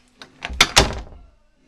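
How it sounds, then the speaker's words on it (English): Knocking on a bedroom door: four quick hollow raps build in loudness, close by, the last two strongest, followed by a brief fading ring. "let's knock again"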